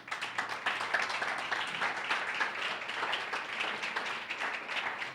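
A church congregation applauds together, a dense, sustained burst of clapping from many hands that stays steady and fairly loud throughout.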